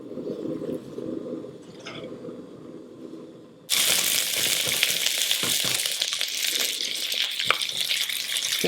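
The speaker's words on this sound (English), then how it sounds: "now you can hear them sizzle" Onions hit hot oil in a pan on high heat and burst into a loud, steady sizzle that continues with faint stirring crackles; quieter kitchen sounds come before it.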